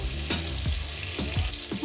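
Tomato frying in oil in a pan while a cook prepares eggplant bharta, giving a steady close sizzle broken by several distinct stirring strokes, with no talk.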